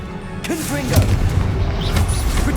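Fiery Confringo spell explosion in the Hogwarts Legacy video game, a loud booming blast with crackling bursts amid other combat effects, overlapping a shouted spell incantation.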